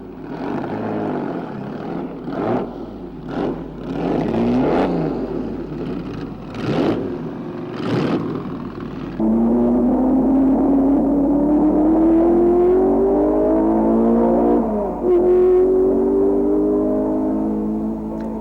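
A 1962 Formula 1 racing car at the Belgian Grand Prix heads out onto the circuit, its engine note climbing steadily as it pulls away. The engine blips in short bursts at first, then gives one long rising tone that stays loud and close.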